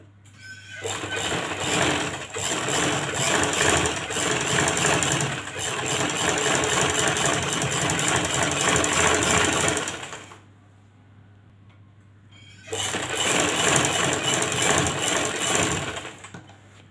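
Sewing machine stitching over lace on a shirt hem, a close, steady whirring run of about ten seconds, a brief pause, then the motor starts stitching again.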